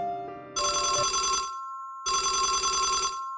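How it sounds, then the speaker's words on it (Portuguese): A telephone bell rings twice in a horror story, each loud electronic trill lasting about a second with a short silent gap between, heard alone. "Ao virar as costas o telefone toca."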